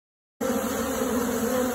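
Swarming Japanese honeybees make a dense, steady buzzing drone that starts abruptly after a brief silence and holds at an even, close level throughout.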